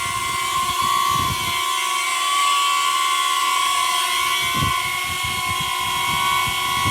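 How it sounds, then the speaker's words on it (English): A DJI Neo drone hovering in place, its propellers giving a steady, close high-pitched whine with a constant tonal buzz and light rhythmic fluttering, no talking. "And now the drone will stay right here,"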